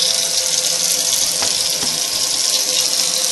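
Warm tap water runs steadily from a faucet into a container for a thermal paper test, a continuous close hiss and splash with no speech.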